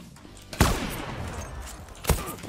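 Kar-98 bolt-action rifle fire in the online shooter Zula: two sharp, loud shots about a second and a half apart, each with a short ringing tail, over a low background hum.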